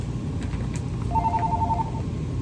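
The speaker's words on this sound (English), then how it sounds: "Oh Lord, there goes the phone." Telephone ringing in a leatherworks restoration shop, a short electronic ring pattern of repeated tones sounding once over steady background noise.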